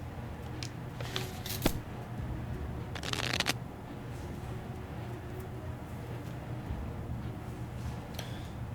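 Playing cards shuffled in the video game 60 Seconds! Reatomized, two quick riffling bursts close up over a steady low background hum, with no talk.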